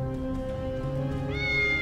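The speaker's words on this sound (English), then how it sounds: "Oh, this is a normal cat." A cartoon cat in the neon-lit detective game Tales of the Neon Sea gives a clear, close meow that rises and holds, with steady game music beneath it and a brighter tone entering near the end.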